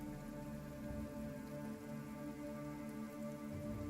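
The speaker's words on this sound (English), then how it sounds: "The rain continues into the early evening." A rain sound effect plays under a tabletop role-playing podcast: a soft, steady patter of rain, quiet and continuous, with faint sustained tonal music beneath it and no talking.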